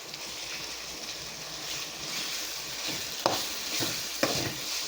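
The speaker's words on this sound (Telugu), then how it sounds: "ఇది కూడా ఒక ఐదు నిమిషాలు ఫ్రై చేయాలి" Marinated chicken frying with ginger-garlic paste for a mushroom chicken masala curry, a steady close sizzle with a few sharp spatula scrapes and clinks against the pan, no talking.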